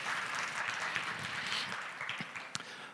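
Audience applause at a sales-drivers panel session in a conference hall, a steady dense wash of many hands clapping at moderate distance, sustained throughout with a sharper single clap near the end.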